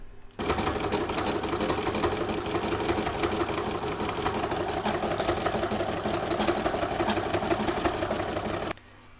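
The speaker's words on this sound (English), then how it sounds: "Now I'm going to do round 5, which is the stippling down here." An embroidery sewing machine stitches a stippling pattern on an in-the-hoop crazy patch bookmark, running as a fast, steady, even whir at close range, starting and stopping abruptly, with no one talking.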